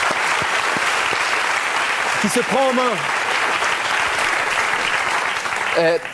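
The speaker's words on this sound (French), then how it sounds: "Quelques applaudissements pour encourager Patrick." Audience applauding on a French TV talk show about obsessive love, steady dense clapping throughout, with a few spoken words over it near the middle and end.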